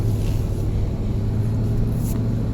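A 1997 Ford Expedition truck cruising smoothly, heard from inside the cab as a steady, deep engine and road rumble with no gear shifts or revving.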